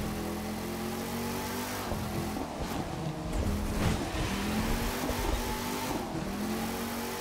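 Dodge Challenger Hellcat in The Crew 2 during a race: a steady engine drone that rises and falls as it revs through gears, with no talking.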